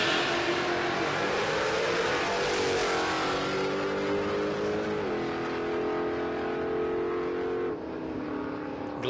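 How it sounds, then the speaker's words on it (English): A Jaguar E-type roars down a drag strip at a raceway, its engine note rising steadily under hard acceleration, loud and continuous, then easing near the end of the run. "That's an E-type Jag."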